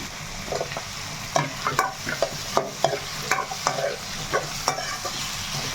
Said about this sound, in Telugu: మనకి ఉల్లిపాయ టమోటా పచ్చిమిర్చి అన్నీ బాగా వేగుతున్నాయి